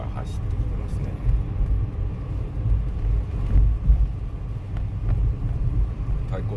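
A Keihan bus approaching on a road, a low engine rumble that swells and eases as traffic moves, heard beneath someone talking.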